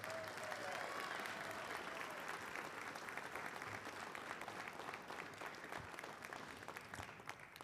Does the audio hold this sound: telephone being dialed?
no